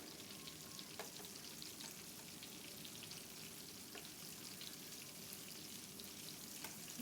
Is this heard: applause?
no